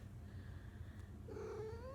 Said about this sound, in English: we have a kitty with us.